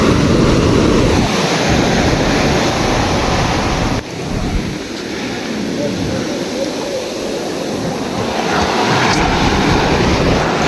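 Sea surf rolls steadily onto the beach at Puri, a continuous broad wash of breaking waves with wind buffeting the microphone throughout.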